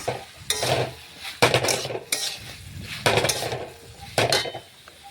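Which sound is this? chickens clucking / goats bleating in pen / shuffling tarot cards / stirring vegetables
stirring vegetables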